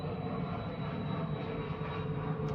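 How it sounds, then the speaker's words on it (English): A fixed-wing airplane drones overhead in a steady, broad engine roar that holds constant at moderate loudness without any speech. "pardon the plane"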